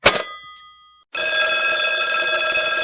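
A telephone bell rings loudly, one short burst that stops, then after a brief gap a second sustained ring carrying through to the end, close and alone with no talking.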